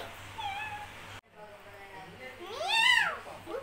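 A voice imitates a cat's meow during a children's story about a gosling searching for its mother: a short high call, a pause, then a louder, rising-and-falling drawn-out meow near the end.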